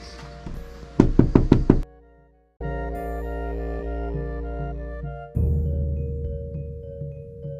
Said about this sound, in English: Next thing we can do is knock on the door.